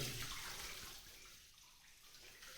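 Faint, steady rush of water gushing from a newly drilled 350-foot borewell, an even broadband splashing that fades slightly, heard alone without voices.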